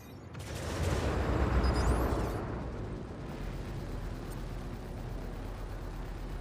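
In the space game Star Citizen, missile launches and explosions roar in a heavy rumbling burst that swells and fades, followed by a steady low thrum of engine and weapon noise, with no voices.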